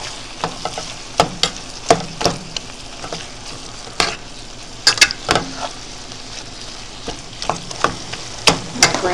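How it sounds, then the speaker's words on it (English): Ground beef browning in a pan sizzles loudly and continuously, broken by frequent sharp scrapes and clacks of a utensil stirring and turning the meat. "So we gonna brown this meat and get all those flavors in there going."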